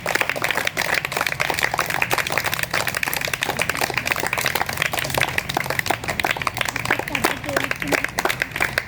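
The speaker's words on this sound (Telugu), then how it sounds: "క్లాప్స్ ఎవరు ఆపద్దు" Sustained applause from the crowd at a felicitation for BMR karate academy students in Hanamkonda, Warangal, continuous crackling claps at moderate level under a speaking voice.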